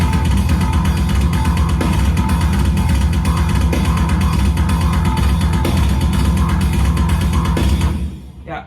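A song played back at 250 bpm, a dense and loud wall of distorted metal with rapid machine-like pulsing that runs unbroken before cutting off near the end.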